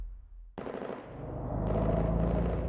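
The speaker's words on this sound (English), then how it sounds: "Explosions and gunshots erupt, sending the crowd scurrying in all directions." Rapid machine-gun bursts and blasts as a game sound effect from Girls Frontline Zero Charge, kicking in suddenly after near silence and building into sustained loud gunfire with sharp high crackles.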